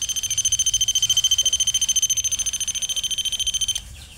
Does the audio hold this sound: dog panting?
no